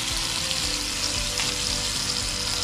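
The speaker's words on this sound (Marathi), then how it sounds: "आता यामध्ये हे पायनॅपल आपल्याला छान फ्राय करून घ्यायचे।" Pineapple pieces frying in a small pan for a caramelised pineapple dessert, giving a steady close sizzle with faint crackling that runs evenly throughout, no talking.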